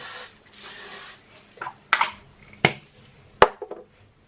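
Hot styler hairspray goes over a bun and curls in two short hissing bursts, followed by a few sharp clicks and knocks of the can being handled, close and fairly loud.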